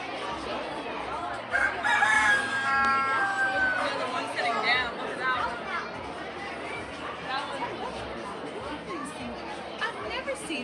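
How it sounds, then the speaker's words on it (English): Roosters and hens crowing and clucking at the St. Tammany Fair, with one clear crow rising early on amid a busy crowd, under constant nearby chatter and talking. "there are roosters and hens all over the place"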